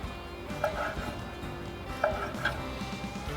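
A knife slices thinly through grilled steak for fajitas, cooked on a Weber kettle, giving a few soft, close cutting taps and scrapes against a faint background hum.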